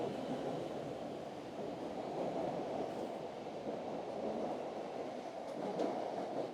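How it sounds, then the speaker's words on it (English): A Boston subway train rolls along with a continuous muffled rumble and rattling, steady and moderately loud from inside the car. "First time on the train."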